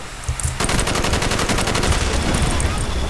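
Machine gun firing in Call of Duty Black Ops multiplayer, a sustained rapid burst of loud close shots kicking in after a half-second lead-in and rattling on evenly to the end.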